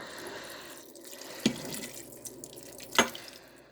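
Beef broth poured over potatoes in a roasting pan for a London broil, with a short liquid stream and a couple of distinct splashes, close up and without talk.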